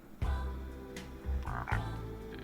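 Cartoonish frog croaks in a video game, a few deep resonant croaks with brief bubbly chirps between them, close and clear with no talking.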